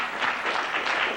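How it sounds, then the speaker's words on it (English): Audience applause rises at a 1994 educational talk, a dense, steady wash of many hands clapping that fills the room, with no speech over it. "Clapping here must mean go home."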